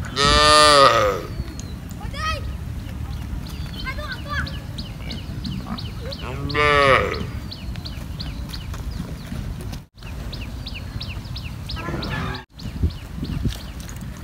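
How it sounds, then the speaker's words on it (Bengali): A herd of buffaloes and cattle moos loudly and repeatedly by the Feni river, with long bellowing calls near and far, while birds chirp and rustling background noise continues throughout. "মহিষের পাল এবং গরুর পাল"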